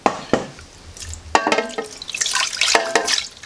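Water poured into a pan of chicken during Fez-style roast chicken preparation, a sequence of splashing, trickling pours with a few sharp clanks against the cookware, close and fairly loud.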